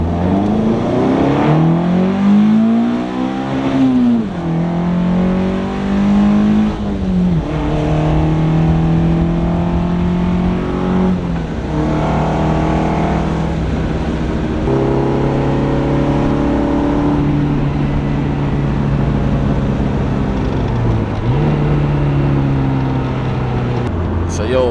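A naturally aspirated 2-liter engine with individual throttle bodies in an FR-S/BRZ with a six-speed, revving loud and close through repeated rising sweeps as it pulls through the gears.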